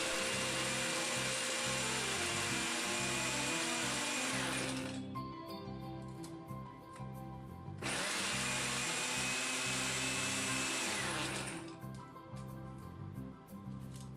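A blender grinds crushed, oven-baked bones into a fine powder, running loud in two long bursts of several seconds each with a short quieter pause between them.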